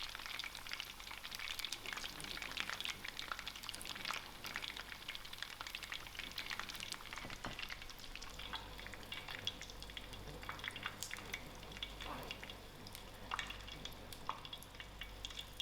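Crumbed mushrooms fry in oil over low heat, giving a steady close crackle and sizzle with scattered popping bursts that carry on throughout, alone without talk.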